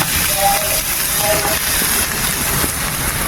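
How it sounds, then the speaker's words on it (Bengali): Onions tipped into hot oil with browned garlic and curry leaves for a fish curry burst into a loud, steady hissing sizzle that carries on close up and unbroken through the short stretch. "রসুনটা লাল লাল হয়ে গেছে, এবার আমি পেঁয়াজগুলো দিয়ে দেবো।"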